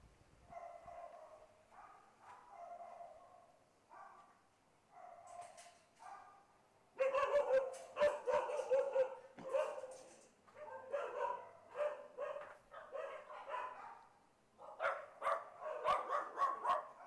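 Dogs bark in shelter kennels in Phuket, starting with softer, spaced bursts of barking and rising into louder, overlapping barks and yips from several dogs close by, with no speech.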